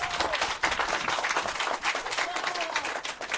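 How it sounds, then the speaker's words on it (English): Steady applause from a crowd at a social housing handover in St Catherine, Jamaica, dense clapping that holds at an even level for a few seconds, with some voices mixed into the noise. "I think your Member of Parliament deserves another round of applause."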